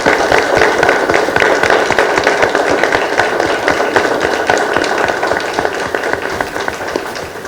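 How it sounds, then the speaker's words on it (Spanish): An audience applauds at a Book Day tribute ceremony honouring writers. Sustained, dense clapping from many hands runs steadily throughout, fairly close and loud, with no talk over it. "Un aplauso."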